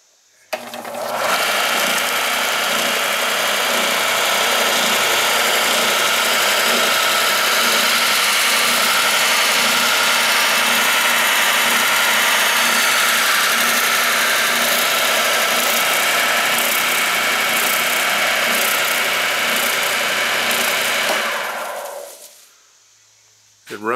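A Ridgid EB44241 oscillating spindle and belt sander motor starts up and runs with a smooth, steady mechanical hum for about twenty seconds, then winds down and stops; the sound is close and continuous.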